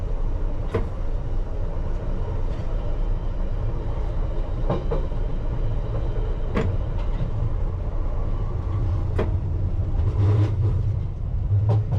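A London Underground Piccadilly Line train running eastbound towards Oakwood depot near Acton Town on a Friday night, heard from on board as a steady loud rumble with periodic sharp rail clicks and joints throughout.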